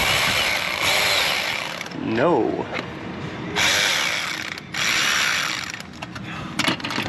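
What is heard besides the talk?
power tool working on car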